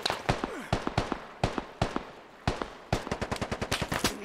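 Rapid gunfire in the Squad video game: close, sharp shots in irregular bursts, with single cracks early on and a fast cluster of shots toward the end, some trailing echoes.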